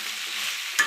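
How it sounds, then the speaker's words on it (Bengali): Chicken meat stir-fried in a pan after its spices have been cooked down, a close, steady sizzle with a brief louder scrape of stirring near the end, no voices. "মুরগির মাংস আমার কষানো হয়ে গেছে।"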